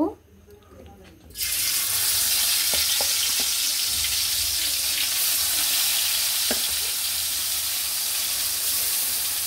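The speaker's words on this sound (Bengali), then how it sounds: "মাছগুলোকে এবার ভেজে নিতে হবে।" Sarpunti fish hitting hot oil in a wok: a soft clatter gives way to a sudden loud, steady hiss of frying that stays close and even, with a few faint clicks.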